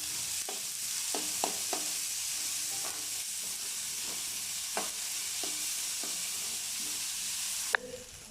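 Cumin and onions fry in hot oil, a continuous moderate sizzle broken by repeated stirring clicks and scrapes of a spoon against the pan, with no talking.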